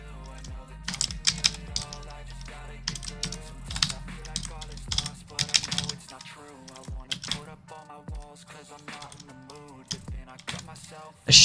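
Typing on a computer keyboard: quick, close keystrokes in irregular bursts over a steady tonal background, with brief pauses between runs of clicks.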